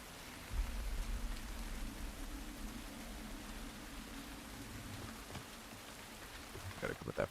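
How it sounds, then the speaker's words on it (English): In The Last of Us Part II, heavy rain falls at night as a faint, steady hiss with a low rumble underneath. A few soft knocks and movements stand out near the end. "The rain tonight is strong."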